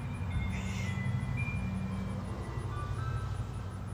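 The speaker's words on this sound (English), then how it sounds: "We have an ice cream truck?" An ice cream truck passing outside, its chiming jingle faint and distant over a low steady rumble of traffic and room hum, continuous with no talking.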